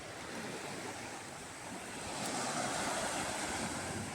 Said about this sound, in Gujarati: પાણીની ભરતી આવી ગઈ છે